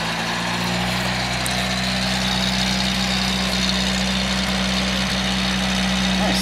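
A Datsun 521 pickup engine idles with its exhaust running steadily nearby, a continuous low rumble that holds even throughout.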